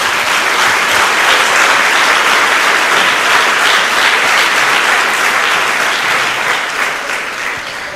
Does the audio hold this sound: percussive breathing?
no